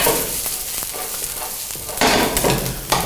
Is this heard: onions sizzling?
yes